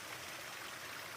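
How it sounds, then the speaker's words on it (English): A small waterfall in a running stream on a trail to Bottleneck Lake, a soft, steady rush of water that is faint and continuous, with no voices. "Oh, a little waterfall in there."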